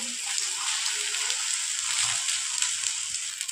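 Rava uttapam cooks on a pan after oil is poured around it, a continuous hissing sizzle, fairly close and even throughout with no speech.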